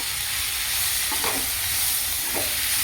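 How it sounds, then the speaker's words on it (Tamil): Tomatoes with ginger garlic paste sauté in a pan for a squid gravy, giving a steady, close sizzling hiss. A couple of soft stirring scrapes rise briefly above the frying. "தக்காளியும் சேர்த்துட்டு நல்லா வதக்கலாம்."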